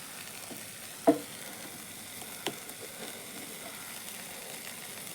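Tamarind is sautéed in a pan, producing a soft, steady low sizzle with a couple of brief utensil clinks and no voices.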